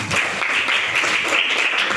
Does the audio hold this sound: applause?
yes